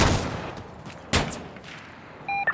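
Gunfire in the video game Insurgency Sandstorm: a few sharp, distant-sounding shots with a burst near the start and another crack around the middle, followed by short electronic beeps at the end.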